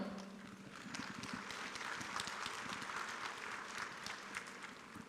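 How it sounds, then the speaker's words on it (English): Audience at a school annual day celebration applauds a choir with dense, steady clapping that holds at an even level throughout, close and fairly loud. "A big applause to our talented choir."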